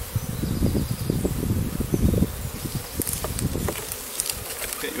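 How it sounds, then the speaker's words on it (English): Honey bees swarm and buzz around an open hive up close, a dense, steady hum running the whole way with rustling and brief clicks scattered over it, no speech. "Those stinging bees."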